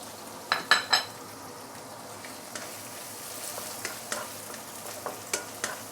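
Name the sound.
stirring rehydrated shiitake mushrooms in a hot pan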